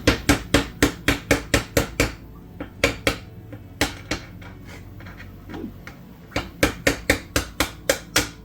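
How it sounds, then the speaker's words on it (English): Sharp, ringing hammer blows in quick regular bursts, a pause with a few scattered strikes, then another steady run of hits close by. "And all else fails, use a hammer."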